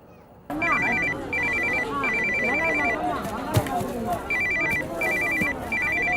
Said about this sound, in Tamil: டேய், அம்மா ஃபோன் பண்றாங்க